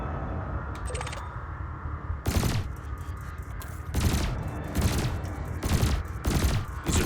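Gimbaled ship weapons in Elite Dangerous fire at floating canisters in rapid bursts, several sharp loud volleys in quick succession over a low hum, with a short electronic blip before the first burst.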